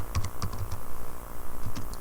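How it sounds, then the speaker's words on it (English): Typing on a computer keyboard while setting up R, with bursts of clicking keystrokes in uneven clusters, fairly close and steady, with no voices present. "we can start typing"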